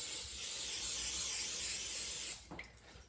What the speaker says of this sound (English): And then we're going to spray the pan.